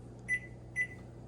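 A microwave oven gives two short, high electronic beeps about half a second apart while its clock is being set, close and clear against a quiet room.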